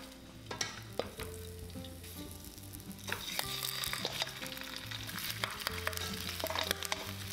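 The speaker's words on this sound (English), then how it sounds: "Pan fry until slightly browned, 5 minutes." Pork trotters pan frying in extra light olive oil in a pot over high heat, giving a steady crackling sizzle with occasional sharp pops and stirring clatter, growing slightly louder partway through, with no talking.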